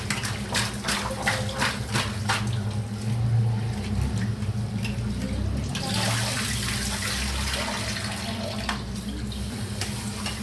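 Fish are rinsed under running water at a sink until the turmeric-yellow water runs clear: a steady, close rush of tap water with splashing and sloshing as the pieces are handled.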